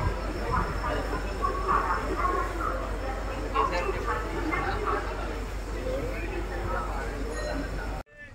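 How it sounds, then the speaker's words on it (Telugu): Train at Bhubaneswar railway station, a steady low rumble and hiss of rolling wagons with faint metallic clinks, continuous and fairly close, with voices murmuring in the background. "ట్రైన్ డీలే అయినప్పటికీ మొత్తం మీద ట్రైన్ వచ్చేసింది"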